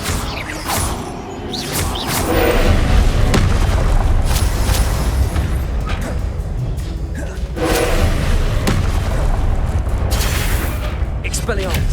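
Confringo blasting spells in the Hogwarts Legacy video game boom again and again, loud and close, mixed with whooshing spell casts in a continuous barrage of combat noise.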